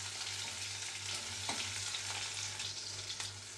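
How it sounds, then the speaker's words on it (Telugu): Sliced onions with curry leaves and dried red chilies frying in oil for a Nellore-style dal, a steady close sizzle with faint stirring scrapes and a low hum underneath, no voices. "ఉల్లిపాయలు బాగా మంచి రెడ్ కలర్ వచ్చే వరకు ఫ్రై చేసుకోవాలి"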